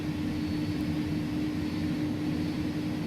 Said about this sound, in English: Landing gear is going to come down.